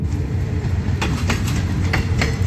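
Passenger train on the Den Chai–Bangkok line arriving at a station platform: steady rumble of rolling carriages with rhythmic wheel clacks over rail joints, close and continuous.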